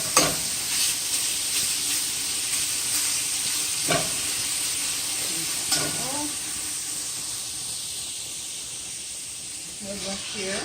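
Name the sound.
bacon sizzling in a pan while pushed around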